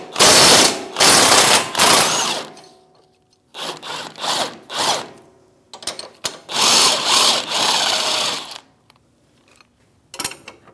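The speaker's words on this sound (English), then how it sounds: "Now we're going to remove our lower control arm knuckle to control arm bolt, 21mm wrench and socket." A ratchet wrench with a 21mm socket loosens the lower control arm knuckle bolt on the rear suspension of a 2016-2025 Chevrolet Malibu. Three close bursts of rapid clicking are separated by short pauses.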